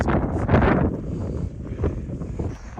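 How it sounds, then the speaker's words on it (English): Strong gusting wind in an open alpine area near Three Fingered Jack buffets the microphone in loud, rough surges that rise and fall, with no talk over it. "It is windy as all get out. Definitely can feel the gusts."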